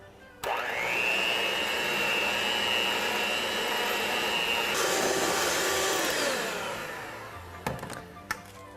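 A mixer whips softened cream cheese and white sugar for a pumpkin cheesecake, a loud continuous whine that shifts pitch midway, then winds down and ends with a couple of sharp knocks.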